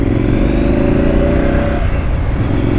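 Triumph Street Scrambler 900 motorcycle engine running loud and close throughout, a continuous rough mid-low drone that rises in pitch as it revs, with no talk over it.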